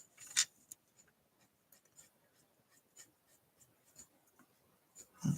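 Green watercolor pencil being rubbed onto paper for card making: soft scratchy strokes in short bursts, close and quiet, with a couple of sharper taps.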